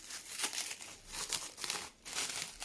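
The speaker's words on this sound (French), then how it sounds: "On va déballer ça." Cling film being peeled and unwrapped from a hemp and peanut boilie bait mix, close crinkling and rustling in several bursts with brief pauses.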